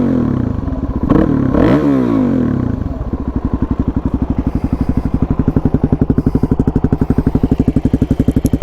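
A Suzuki DRZ400 single-cylinder with an aftermarket exhaust, fitted with quiet insert and spark arrestor, takes a few sharp throttle blips early, then settles into a loud, evenly pulsing idle thump, close up with no talking.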